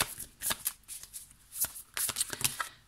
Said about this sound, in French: Je vais prendre 5 cartes.